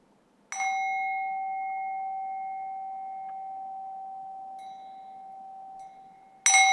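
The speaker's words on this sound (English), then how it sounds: "when you hear the bell" A single meditation bell strikes once with a clear, pure tone that rings out and decays slowly for about six seconds in a quiet room, then a second strike begins right at the end.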